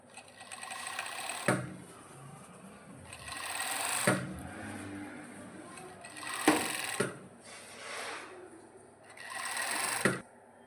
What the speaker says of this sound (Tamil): கைக்கு நான் வந்து ஜாயிண்ட்டுக்கு ஓவர்லாக் கொடுக்குறேன்